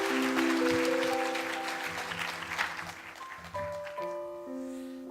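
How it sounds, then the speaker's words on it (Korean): Church congregation at a New Year's Eve service claps in encouragement for a member about to give a testimony, applause fading out over a few seconds while sustained organ or keyboard tones ring underneath. "박수로 격려해 주시면 좋겠습니다"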